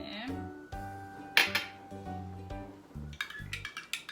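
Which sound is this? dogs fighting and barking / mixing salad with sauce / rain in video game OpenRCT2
mixing salad with sauce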